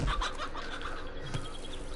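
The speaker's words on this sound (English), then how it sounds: "Like, here's a chicken." A chicken clucking in the survival video game 7 Days to Die, a few short close clucks over steady game ambience with no talking.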